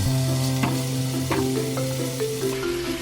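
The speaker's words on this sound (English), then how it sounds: "Now we're going to add our ground beef to a hot pan" Ground beef seasoned with garlic salt fries in a hot pan, giving a close, even sizzle with a few scraping strokes of a utensil and a faint low hum underneath, with no talking.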